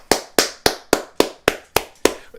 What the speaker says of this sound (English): Everybody give yourself a round of applause.